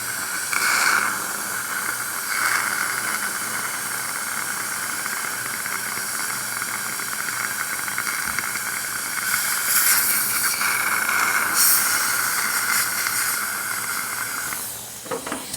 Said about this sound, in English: So I like to rinse the etch off very well.